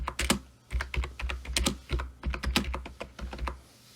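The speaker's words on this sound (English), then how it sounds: "So let's type some text." Text being typed on a computer keyboard, close and clear, with quick irregular bursts of key clicks separated by brief pauses, no talking.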